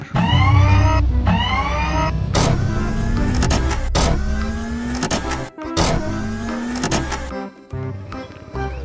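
A battery-powered toy robot car playing electronic engine revs, sweeping tones and siren-like effects, loud and close, with sharp clicks and bursts repeating throughout.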